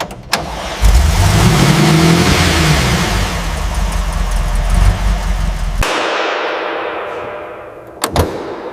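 The engine of a 1936 Rolls Royce Phantom III roars loud and close, its pitch rising and falling through several revs before the sound cuts off abruptly, leaving a fading whoosh and a couple of sharp knocks.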